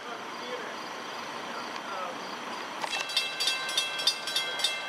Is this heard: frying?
no